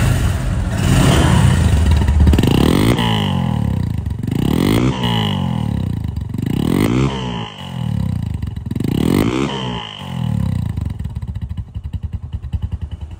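A second-hand Bajaj Discover 135cc motorcycle engine runs close by, loud and steady, swelling through a series of regular throttle blips before settling back toward idle.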